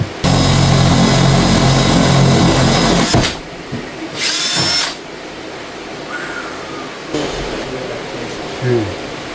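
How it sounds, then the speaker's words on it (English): Hammer drill running in a room: a loud, steady, noisy grinding roar for about three seconds, then quieter intermittent bursts and short whirs with a few faint tonal squeaks. "Why is it on hammer drill?"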